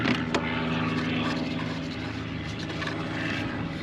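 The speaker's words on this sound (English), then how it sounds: "I've got a plane flying overhead right now" Propeller airplane flying overhead outdoors, a steady droning engine hum that stays fairly loud and constant throughout, with faint background sounds beneath it.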